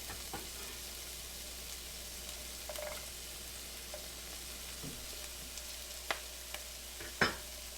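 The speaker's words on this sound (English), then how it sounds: "I'm going to add in my garlic and turn the heat down to low." Garlic added to softened onions in a frying pan over low heat, a faint steady sizzle with a few light clinks and one sharp utensil knock near the end, close but quiet.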